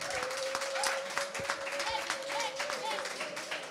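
An audience at a press conference applauds Fabregas with a steady wash of clapping throughout, while a voice carries on beneath it.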